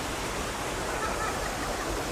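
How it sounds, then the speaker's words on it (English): Water rushing along a stone chute feeding a grist mill wheel, a steady broadband roar heard close and unbroken throughout. "The water comes right over from over here, and that chute goes all the way down there to the grist mill to run the big wheel"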